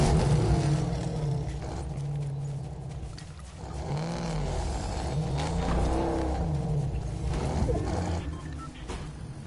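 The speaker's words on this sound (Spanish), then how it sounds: "Tan buenos los autos como suenan ahora." Racing car engines rev and roar in a rising and falling snarl, loud and continuous, with one tone sweeping up and down as a car accelerates past.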